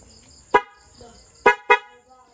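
A car horn is tested alongside a mini driving light and passing light setup, sounding three short sharp honks, one alone and then a quick pair, loud and close over a faint steady tone.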